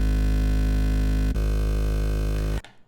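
A wide, buzzy unison synth from Serum 2 plays unfiltered as one loud sustained chord rich in upper harmonics, with a brief blip partway through, then cuts off abruptly.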